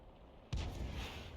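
An artillery piece fires a single round in a tank battle video game: one sudden distant boom with a rumbling tail, fairly faint, with no talking.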